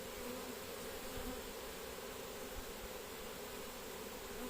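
A honeybee swarm being collected with a pole at Combs-la-Ville, outdoors, hums as a dense, continuous buzz of many bees, steady and fairly close, with no talk.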